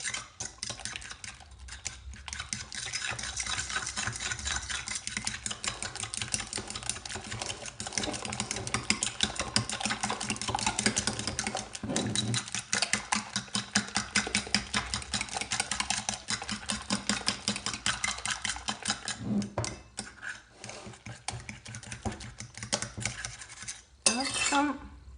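Utensil scraping and clinking against a bowl while a healthy recipe mixture is stirred, a steady close rhythmic clatter of metal on dish running throughout with brief pauses near the end.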